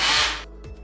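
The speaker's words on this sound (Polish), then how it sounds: "I kolejnym etapem jest przykręcenie uchwytów, które wcześniej przymierzaliśmy do naszej rolety." A cordless screwdriver driving screws to fasten brackets for 50 mm wooden PVC blinds whirs loudly for under half a second, then stops, leaving a few soft knocks and taps.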